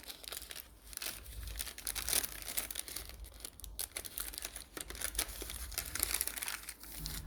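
A small paper bakery bag is handled up close, giving continuous crisp crinkling and rustling with occasional sharper crackles, fairly quiet and with no voice over it.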